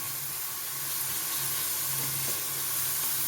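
Beans, carrots and onions for a thoran sauté in a hot pan, filling the space with a loud, steady, close sizzle and hiss.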